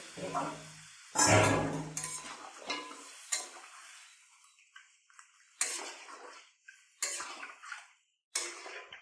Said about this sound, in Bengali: দিয়ে এবারে আমি জল দিয়ে দিচ্ছি